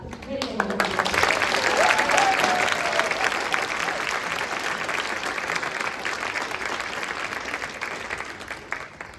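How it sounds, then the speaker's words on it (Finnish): Audience applauding the musicians at a Näppärit folk music course concert in Kerava: dense, loud clapping that swells early and holds steadily to the end, with a few voices mixed in. "mä toivoisin nyt alkuun jo myös isot aplodit kaikille näille upeille muusikoille"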